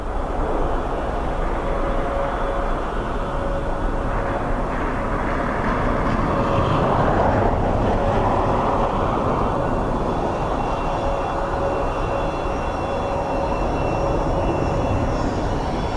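Jet engines roaring steadily as a medical flight aircraft departs Dublin Airport in windy, wet weather, a loud continuous rumble with a broad wash of noise that holds level throughout, no talking.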